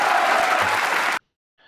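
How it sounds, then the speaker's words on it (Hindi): A crowd of children bursts into loud, dense applause, clapping steadily for about a second before cutting off sharply into silence. "बच्चों, आपके ताली बजाने से बड़ा दुख हुआ,"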